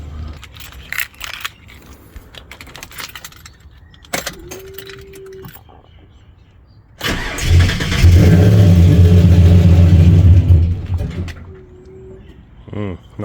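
A Ford EL Fairmont Ghia fitted with a Crow Stage 4 camshaft cranks and fires up, a loud rough rumbling idle that surges for several seconds and then settles, with brief talk and birdsong before and after.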